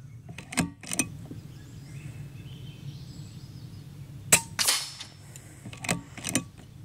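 A Kalibrgun Cricket 2 Tactical bullpup PCP air rifle fires at a target 60 yards out, giving several sharp, close cracks in quick pairs separated by quieter gaps.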